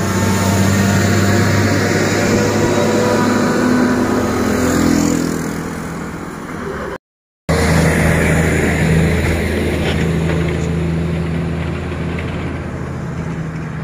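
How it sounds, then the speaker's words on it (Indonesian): A Canter truck engine strains in a low, steady drone as it struggles up a steep hill at Sei Lukut, Perawang, Riau, rising slightly partway through, heard from nearby with no talk. "Teman-teman bisa melihat di sana ada sebuah mobil kanter yang tidak sanggup menanjak."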